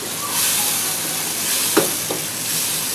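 Yogurt stirred into a pan of frying tomato masala for mutton bhindi, giving a steady close sizzle and hiss with a couple of faint scraping stirs.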